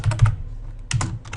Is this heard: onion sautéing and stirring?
no